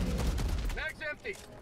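Rapid weapon fire from the video game Helldivers 2 rattles loudly in a dense burst for most of a second, then breaks off as a voice speaks over fading game sounds.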